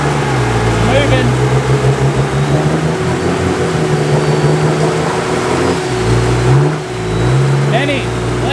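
A 4x4 spins its wheels while being pulled free on a Cape York track, the engine revving and surging in loud bursts under people talking.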